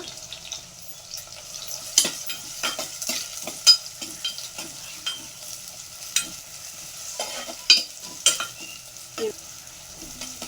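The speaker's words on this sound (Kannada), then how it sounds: "ಫಸ್ಟ್ ಈರುಳ್ಳಿ, ಹಸಿಮೆಣಸಿನ್ಕಾಯಿ ಚೆನ್ನಾಗಿ ಫ್ರೈ ಮಾಡೋಣ." Onion and green chilies frying in a pan, a steady bright sizzle with repeated sharp scraping and stirring clicks scattered throughout, fairly close, with no talk.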